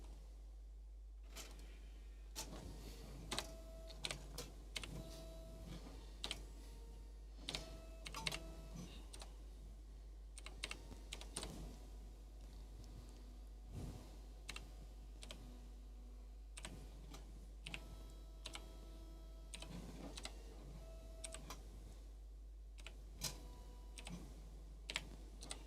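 A CD key entered on a computer keyboard, with quiet, close key clicks arriving in irregular short bursts and pauses over a constant low hum, with no talking.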